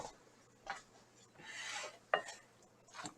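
Wooden spatula poking and mixing a salmon loaf mixture in a bowl, giving soft scrapes, a brief rubbing swish and a sharp tap or two, faint and close with no voices.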